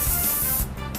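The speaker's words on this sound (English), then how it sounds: "The anti-large migratory waterfowl spray." A hissing aerosol spray can of anti-goose spray, a broadband sustained hiss loud and close for most of the second before cutting back to a softer hiss.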